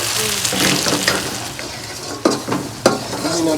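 Spices being stirred in a hot cooking pan for a Naga chili pickle with mustard paste and garlic: a steady sizzle of frying with scraping stir strokes and a couple of sharp utensil knocks against the pan.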